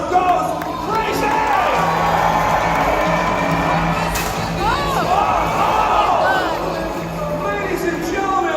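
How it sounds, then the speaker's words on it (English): Loud crowd cheering and whooping at a live jousting show at Vancouver's PNE Playland, with sustained dense roar, scattered shouts and an announcer-style voice rising through the din. "And the crowd goes crazy!"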